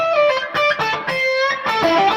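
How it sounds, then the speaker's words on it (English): An electric guitar played through a Victory amp with a distortion pedal rings out in a short burst of loud, gritty, sustained chords and notes, close and alone. "here it is with some like distortion on it."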